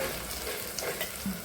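Onion and chili frying with turmeric in a pan: a dense, steady sizzle with faint bubbling, close and continuous for a brief moment.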